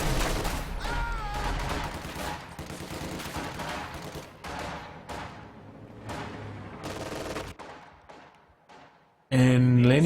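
Rifle and machine-gun fire crackles through a Company of Heroes 2 battle as conscript squads shoot, with bursts layered over game music and effects, a sudden loud burst near the end.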